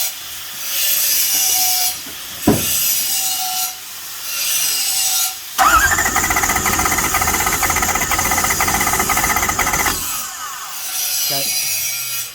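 A Toyota 1UZ-FE V8 with a valve that sticks after years of sitting cranks over in bursts, a rough rhythmic whirring churn that is loud and close, broken by pauses and one longer sustained cranking run.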